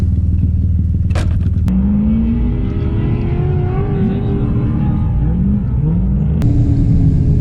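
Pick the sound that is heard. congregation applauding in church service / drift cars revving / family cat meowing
drift cars revving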